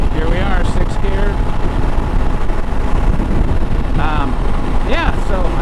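Honda CRF300L Rally motorcycle cruising in sixth gear, a steady engine drone mixed with heavy wind rush, with someone talking over it.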